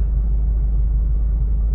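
A 1951 Mercury sedan engine idles just after its first start, giving a steady, close, low rumble that holds evenly throughout with no voices.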